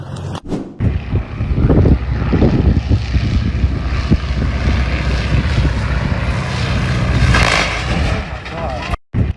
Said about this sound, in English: This is the moment a light aircraft crashed during takeoff at an airport in Washington state.